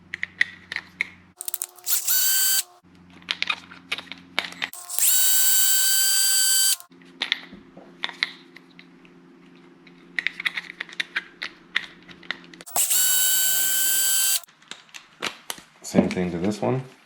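A small power driver backs out tiny 1.5 mm screws from a Losi LMT RC truck axle, whirring in several loud, close bursts of a few seconds each, separated by quieter ticking and handling noises; a person speaks between the bursts.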